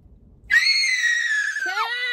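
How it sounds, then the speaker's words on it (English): A person screams loudly at the top of their lungs in one sustained, piercing, close shriek that bends downward near the end, breaking out after a brief low murmur. "Why are you screaming like that?"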